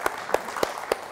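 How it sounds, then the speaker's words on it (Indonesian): At a public service office opening in Yogyakarta, a handful of sharp, evenly spaced claps ring out, four or five in a slow, steady rhythm, fairly close and moderately loud. "Beri tepuk tangan dong untuk pelayanan yang luar biasa ini."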